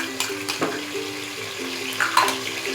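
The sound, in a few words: frying ginger garlic paste for chicken biryani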